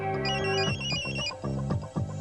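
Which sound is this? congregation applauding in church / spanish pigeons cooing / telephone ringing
telephone ringing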